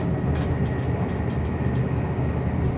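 A Shinkansen high-speed train travelling, giving a steady, loud broadband rumble and rushing roar with a faint tonal whine and a few brief higher swishes, without talk.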